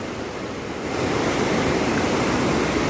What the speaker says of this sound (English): Sorry about the noise of the river